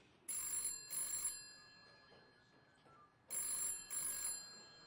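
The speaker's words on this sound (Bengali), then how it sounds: "এমন সময়ে থানার ফোনটা বেজে উঠল।" A police station telephone bell rings in two double bursts separated by a pause, clear and fairly close, with no talking.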